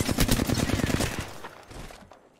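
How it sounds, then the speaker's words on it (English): Rapid gunfire in a video game, with the player being shot from behind: dense, loud bursts of overlapping shots that thin out and fade over the last second. "I'm getting shot from behind"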